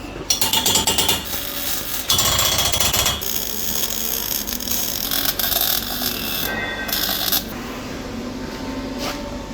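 Several sharp metallic hammer strikes on a pipe fitting, irregularly spaced and close, with ringing and clattering between blows.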